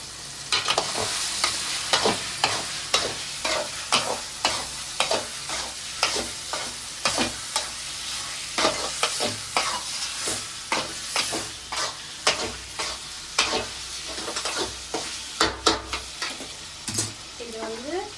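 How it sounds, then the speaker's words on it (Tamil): Chicken pieces frying in oil for a home dinner, a continuous sizzle punctuated by a regular series of sharp spatula scrapes and taps against the pan, close and fairly loud, with no talking. "இது வந்து ஒரு 10 மினிட்ஸ் நம்ம வந்து எண்ணெயிலேயே வந்து வேக வைக்கணும்."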